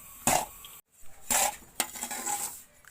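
Nuts browning in a pan over low heat, a spoon scraping and clinking against the metal in short irregular bursts with brief quiet gaps, close and fairly loud.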